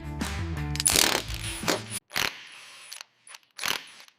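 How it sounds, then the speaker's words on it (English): Bolts tightened on a 1987 Buick Grand National GNX during restoration, close ratcheting clicks and metallic mechanism rattles in short bursts separated by pauses. "Bolts tighten securely."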